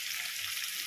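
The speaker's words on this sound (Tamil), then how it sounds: "இப்போ வெங்காயம் நல்லா வதங்கிட்டோம்" Onions frying in a pan for a prawn rice dish, a steady soft sizzle and crackle, close and continuous, with no voices.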